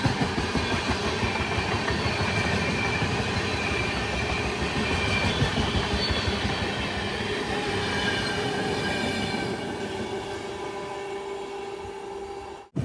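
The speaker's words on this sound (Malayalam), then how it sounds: "ട്രെയിൻ ഇപ്പോൾ നാഗ്പൂരിലേക്ക് എത്തുകയാണ്." The Grand Trunk Express, running Chennai Central to New Delhi and nearing Nagpur, rumbles along the tracks with a close, loud and continuous roar of wheels and carriages, alone with no talk.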